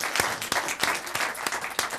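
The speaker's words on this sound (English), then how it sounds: "let me just try to grapple for one more good round of applause" A studio audience at an annual meeting gives a round of applause, a fairly close, sustained patter of many hands with a few sharper individual claps standing out.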